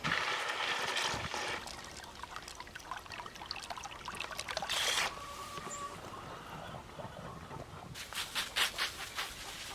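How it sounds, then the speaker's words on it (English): Water trickles and splashes steadily for several seconds as plants in a Greenstalk vertical planter are watered, close by, with a pause and then a final burst of dribbling pours. "And lastly, I'm gonna water it in."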